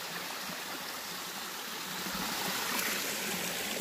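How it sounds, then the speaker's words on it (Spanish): A mountain stream pours down toward a ravine in a steady, loud, close rush of flowing water with no voices. "De aquí baja, de aquí llega hasta la quebrada y ya sigue el agua."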